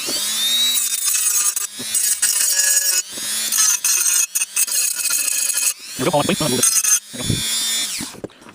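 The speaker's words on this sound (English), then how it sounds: "I'll use the cut-off wheel to do that. It makes quick work of this stuff." An abrasive cut-off wheel grinds material off a DIY 0-300 VDC power supply project, a loud continuous rasping whine with short bursts and pauses, its pitch shifting as the wheel bears down.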